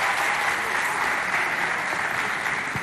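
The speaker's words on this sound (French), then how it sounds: "Ça mérite encore des applaudissements," Applause from a school audience at a Chad high school talent competition, a continuous wash of clapping holding steady at moderate loudness for a few seconds.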